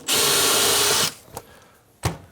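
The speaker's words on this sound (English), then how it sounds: "We'll be able to drill a hole." A power drill whirs loudly for about a second as it bores into wood while assembling curved raised panel cabinet doors, then stops, followed by a couple of short knocks and clatters.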